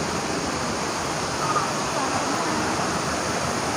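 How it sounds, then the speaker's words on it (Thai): An artificial waterfall in temple grounds pours as a steady, dense broadband rush of falling water, constant and fairly close with no clear breaks. "ก็เดี๋ยวพาไปดูจุดที่เป็นน้ำตกจำลองในวัดนะครับ สวยงามทีเดียว"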